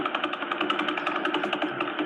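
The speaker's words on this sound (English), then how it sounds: "That is the Wheeler pulsar, 89 milliseconds." Radio pulsar signal converted to sound, an 89-millisecond rotation period, heard as a fast steady train of broadband clicks or thumps, roughly eleven per second, continuous and fairly loud with no voices.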